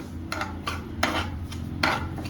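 Spoon stirring and scraping through fada lapsi (cracked wheat) roasting in melted ghee in a pot, four short rasping strokes at a steady rhythm, close up over a low hum, with no talk.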